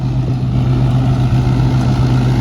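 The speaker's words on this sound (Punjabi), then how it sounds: "ਪੁਰਾਣਾ ਮਾਡਲ ਟਰੈਕਟਰ ਆ ਇਹ ਇਹ ਮਸ਼ੀਨ ਹੈਗੀ 18 ਮਾਡਲ" An old model 18 Sonalika tractor with a chopper body engine runs close by, a loud, steady low drone with a pulsing thump that holds without change and no talk over it.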